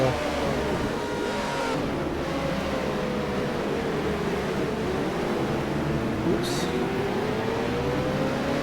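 A Formula 1 race car from 1978 roars at high revs down a straight at the Jacarepaguá circuit in the F1 Challenge racing game, a steady loud engine drone with shifting pitch, under continuous race commentary.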